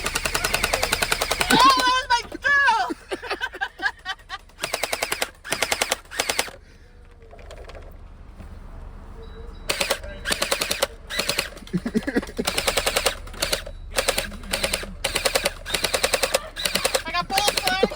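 Rapid bursts of gunfire from an arcade-style shooting game at a Flying H stop, loud repeated volleys with brief pauses, a voice speaking early on.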